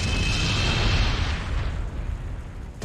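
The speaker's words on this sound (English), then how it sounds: "She then grips her necklace and triggers an explosion," Explosion set off by a necklace in the video game Killer7, a loud, rumbling blast that slowly fades away.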